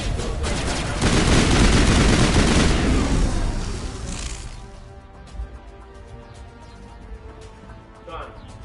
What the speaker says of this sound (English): What are you guys firing at now?